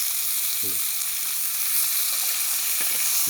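Pork frying in a pan over high heat for stir-fried pork, a dense, constant hiss of sizzling oil heard close, with a couple of faint knocks and no clear talk.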